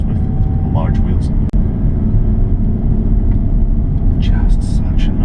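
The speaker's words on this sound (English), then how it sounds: "Just such a noise on that engine." A BMW 330d M Sport Plus diesel engine runs with a loud, steady low rumble that is continuous throughout, with faint voice sounds over it.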